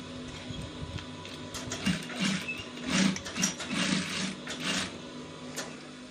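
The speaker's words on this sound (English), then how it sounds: "Okay, so you top stitch again. You do top stitching again as shown." A sewing machine topstitches along a placket trimmed with piping, running in a steady mechanical whir with faint rhythmic stitching pulses, fairly quiet and close throughout.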